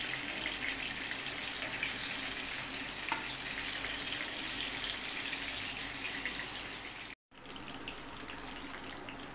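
Sponge gourd (gilki) frying in oil, a steady, dense, close sizzle that runs on evenly, cut briefly by a moment of silence before resuming.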